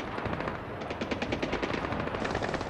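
Rapid automatic gunfire from the video game Splinter Cell Blacklist rattles in a dense, loud burst of shots, continuous and close with no talk.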